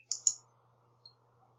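Mouse clicks while a chart is built from a table in spreadsheet software: two quick, close clicks near the start, then a single faint click about a second later, with quiet room tone between.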